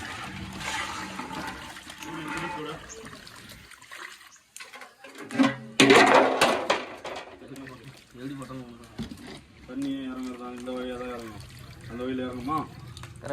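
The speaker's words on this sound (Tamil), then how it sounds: "25 கிலோ கறி ஃபுல்லாக எல்லாம் அலசி எடுக்க போகிறோம்." About 25 kg of chicken meat being washed in water for a large biryani batch, splashing and sloshing that surges loudly midway, under steady talk in Tamil.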